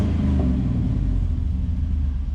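An LS-swapped Chevy S10 truck engine runs close by in a deep, continuous rumble that stays steady and loud across the short stretch, with no voices.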